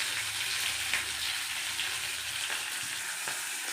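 Dried red chillies frying in hot oil for lemon rice, a continuous bright sizzle with faint stirring taps, steady and close, no talking.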